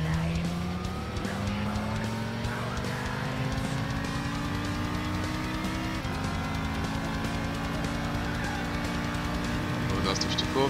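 A tuned Vauxhall Calibra DTM touring car in Gran Turismo 6 drones steadily at high revs, its engine pitch slowly rising and shifting, with occasional tire squeal underneath.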